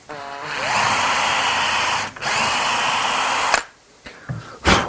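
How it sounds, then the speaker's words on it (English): A power drill bores a small 1/4 inch hole into a wooden drawer, whining loudly and steadily for about two seconds, pausing briefly, running again, then stopping with a few sharp knocks. "what we have to do there is drill a small 1/4 inch hole"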